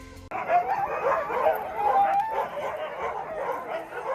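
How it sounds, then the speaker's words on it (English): Husky sled teams at a Finnish winter village bark and yip together in a loud, continuous chorus before a sled ride, with excited whimpers and howls mixed in. "Now you can hear that huskies are super loud and they're ready to start the journey."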